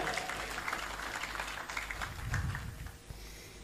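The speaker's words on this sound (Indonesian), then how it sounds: "Tepuk tangan untuk Indonesia Raya." Audience applause following a sung performance of the Indonesia Raya anthem at a gathering, a steady moderate wash of clapping across the whole stretch, a little distant, with faint low crowd murmur underneath.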